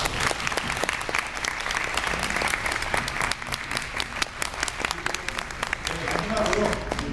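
Audience applause at a Korean talk event with director Mamoru Oshii and two guests, a dense, steady wash of many hands clapping throughout, fairly close and loud, with a faint voice underneath near the end.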